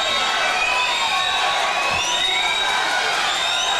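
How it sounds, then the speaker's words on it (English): Crowd at a swimming championship inside the Kingsport Aquatic Center cheering and shouting steadily for the swimmers, a dense continuous roar of voices with whoops, no pauses. "Fans are cheering them on here at the Kingsport Aquatic Center"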